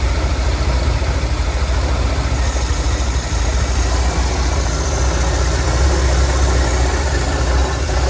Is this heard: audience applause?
no